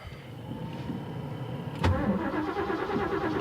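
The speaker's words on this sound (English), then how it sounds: "Let's see if this thing fires up." A project car with a five-speed gearbox cranks for almost two seconds. The engine then catches with a sudden burst and settles into a rough, close idle.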